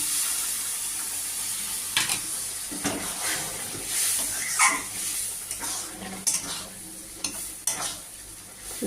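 Soybean and chickpea dal in a pan hisses and sizzles as a little hot water goes in, with scattered stirring scrapes and utensil clinks against the pot, fairly close and without talk.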